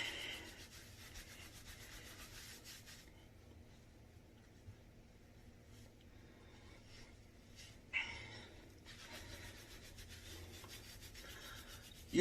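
Shampooed short hair styled in 360 waves is scrubbed during a scramble wash, giving a faint, close, continuous rubbing and scratching with a few brief louder scrapes.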